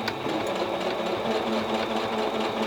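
A sewing machine runs steadily, stitching through a satchel handbag near its hardware, with a continuous close whirring drone and no pauses.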